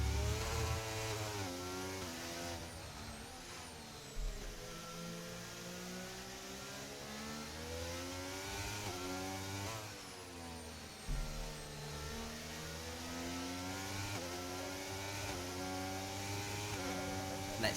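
Alfa Romeo race car in a racing video game at the Hungary round, its engine revving steadily with rising and falling pitch sweeps through gear changes, loud and continuous throughout.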